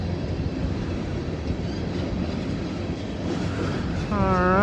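A train rolls past, a steady broad rumble and rattle of rail cars throughout, growing louder near the end with a rising whine as it comes closer.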